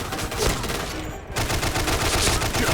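Sustained automatic fire from an RPD machine gun in the Point Blank online shooter, a dense, loud, continuous rattle of rapid shots with only a brief thinning partway through.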